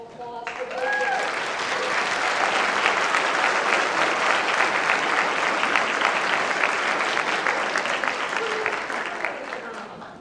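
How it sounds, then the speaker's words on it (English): A room full of Rotary Club members gives a round of applause, dense clapping swelling in after a brief voice at the start and holding steady for about ten seconds before tapering slightly. "I will leave the round of applause for both of you."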